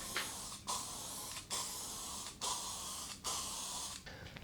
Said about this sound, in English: So I'm going to apply the sealer.